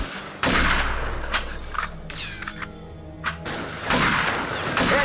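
Gunfire from the video game Zones: Siberia: loud bursts of rapid shots and thuds ring out close in several clusters, separated by quieter gaps with brief impacts.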